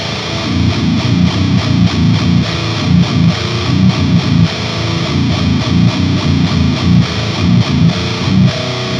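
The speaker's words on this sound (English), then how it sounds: "how I make my fucking brutal, slamming, death metal tones" Heavily distorted slam death metal guitar on a cheap Ibanez 7-string, low chugging palm-muted riffs in a steady pulsing rhythm, loud and dense throughout with no voices.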